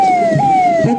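A CIDCO fire service fire engine in the Navi Mumbai police Republic Day parade sounds its siren, a loud, close, sustained wailing tone that drops slightly in pitch before jumping back up.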